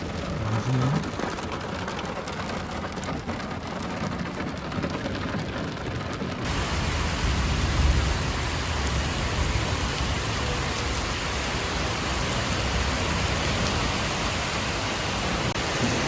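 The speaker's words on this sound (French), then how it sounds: "C'est la tempête." Heavy rainstorm pouring steadily during a stormy holiday in Marseille, a dense continuous hiss of rain that grows louder and fuller partway through and stays loud to the end.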